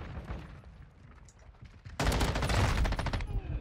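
Rapid automatic gunfire in the video game Modern Warfare 2, a sudden loud burst of close shots partway through that continues for over a second, after quieter background game noise.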